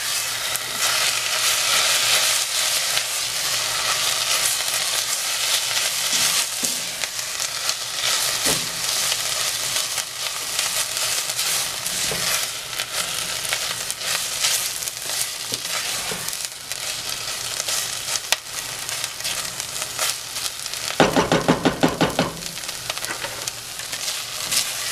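Tomato paste and garlic sizzle steadily in a pot as they are stirred, with a continuous loud frying hiss and a brief scraping burst of stirring near the end; no voices.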